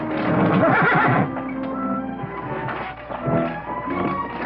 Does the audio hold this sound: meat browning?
no